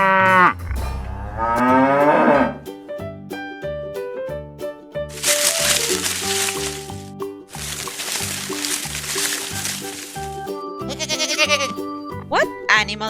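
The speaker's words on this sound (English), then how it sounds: "It's a cow." A cow moos loudly and close, its long low call standing out over a bright, busy musical backing, with a spoken voice present.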